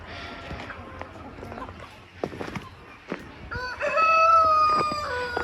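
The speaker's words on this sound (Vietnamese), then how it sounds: "Đây là đàn gà lông mượt." Flock of smooth-feathered native H'mong chickens on a hillside farm, with clucking and scattered calls, then a rooster crowing loudly up close near the end; a voice is heard in the background.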